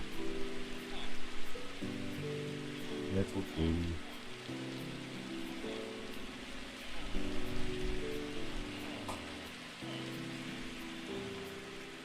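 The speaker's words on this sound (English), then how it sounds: "and then the rain's a bit loud." Rain patters steadily in the background while a person speaks briefly over it.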